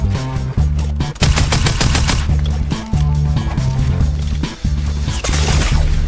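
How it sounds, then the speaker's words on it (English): Rapid bursts of video game gunfire, including sniper shots, crack loudly and repeatedly, with heavy thumping impacts and brief gaps between the volleys. "And of course I get sniped."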